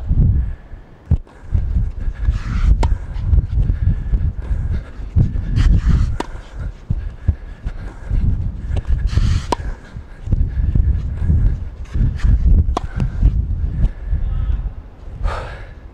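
Heavy, rapid breathing while running during tennis: gasping inhales and sharp exhales repeat in an uneven rhythm, close and loud, with faint footsteps and shuffling underneath.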